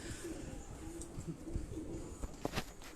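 Topi pigeons belonging to Raja Azeem coo softly on a rooftop in Rawalpindi, low murmuring calls repeating over steady background noise, with a few sharper sounds near the end.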